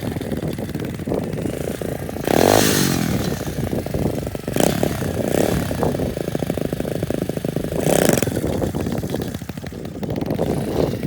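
An SSR pit bike engine buzzes continuously during a wheelie attempt, with several louder rev surges as the throttle is blipped, heard up close and without talk.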